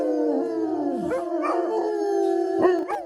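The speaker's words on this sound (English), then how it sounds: "all the dogs are howling" Several dogs howl together in long, wavering, overlapping cries that rise and fall, loud and close, with a few yips breaking through.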